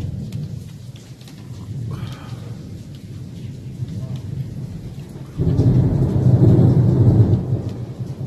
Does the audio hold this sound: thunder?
yes